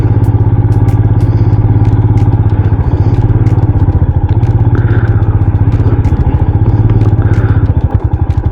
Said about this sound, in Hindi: ओहो, बहुत धीरे से मैं बाइक को राइड कर रहा हूँ यहाँ पर।